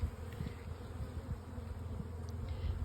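Honey bees swarm busily around their hives, a steady close buzzing drone with slight fluctuations, no voices.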